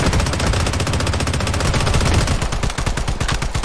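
Shotgun blasts in the video game Project BloodStrike, loud, close, continuous rapid gunfire with a dense run of sharp shots thinning into separate bursts toward the end.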